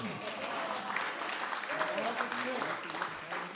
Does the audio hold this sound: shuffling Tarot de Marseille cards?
no